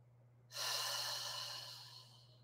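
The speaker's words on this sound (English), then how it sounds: "we're trying to breathe from here" One long, deep breath drawn through the nose for a belly-breathing demonstration, airy and close, rising sharply and then fading slowly over low background hum.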